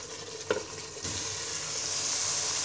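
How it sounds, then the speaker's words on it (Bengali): Spice paste with cumin powder frying in a pan for a Bengali chicken malaikari, a steady hiss of sizzle that jumps louder after a sharp clink of stirring, with scraping and no voices. "এবার মশলাটাকে 5 মিনিট কষিয়ে নিব।"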